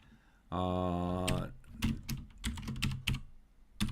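Keystrokes on a computer keyboard while Java code is typed in an editor, including a Ctrl+Space autocomplete shortcut: a steady tonal hum at first, then a run of close, crisp clicks in an uneven rhythm.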